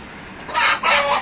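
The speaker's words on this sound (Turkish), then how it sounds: "Horoz." A rooster crows nearby, a loud strained call in two rising bursts, with no other sounds around it.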